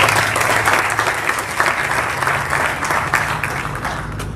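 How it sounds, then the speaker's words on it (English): An audience at a school end-of-year ceremony applauds the yellow volleyball team with steady, dense clapping that fills the room and continues evenly throughout. "Let's have a round of applause for our yellow team."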